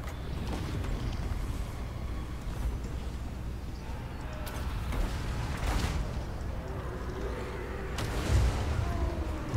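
Several muffled cannon-like booms and impact thuds ring out during a siege battle at a city wall in a fantasy strategy video game, spread irregularly over a constant low rumble of battle ambience, with one heavier blast near the end.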